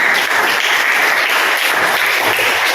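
Steady applause from a group, dense and continuous clapping throughout at a fairly loud level.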